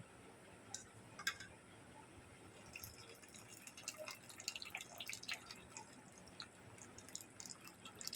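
Water drains and drips from boiled chow mein noodles, a soft irregular trickle with scattered light drips, quiet and close, no voices.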